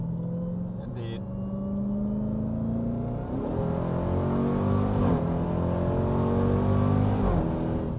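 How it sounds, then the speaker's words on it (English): Supercharged V8 of a 2026 Dodge Durango SRT Hellcat SUV on a race track, a steady loud engine drone with rising whine and climbing gear sweeps, revving through shifts, with voices talking over it. "Supercharger, you get that noise."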